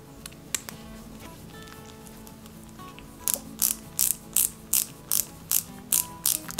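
A small screw is driven into die-cast parts of a 1/8-scale Ford Gran Torino model kit, giving a run of sharp, evenly spaced ratcheting clicks from a screwdriver, close and distinct, with no one speaking.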